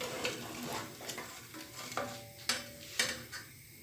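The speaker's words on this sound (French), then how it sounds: "Faut pas cesser de remuer," A spoon scrapes and stirs an orange and chocolate flan mixture around a saucepan over heat in a steady rhythm, with soft clinks against the metal and a faint bubbling sizzle.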